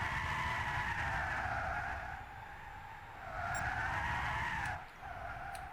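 A Tesla Model S in the video game Gran Turismo 6 drifts, with sustained tire skidding and squealing that swells and dips across the run, heard alone at moderate level.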